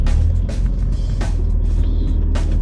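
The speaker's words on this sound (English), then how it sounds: "what it's like to do a 3-point turn" Mazda MX5 Mk1 without power steering performing a three-point turn, a steady low idling engine rumble throughout with faint scuffing and creaks on top, close and fairly loud.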